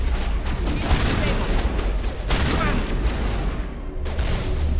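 Sustained combat gunfire and booms in the Mass Effect video game, a continuous loud wash of shots and impacts with no clear gaps, mixed with faint game sounds and voices.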